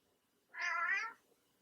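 A house cat lets out one clear, moderately quiet meow lasting about half a second, alone against a nearly silent room.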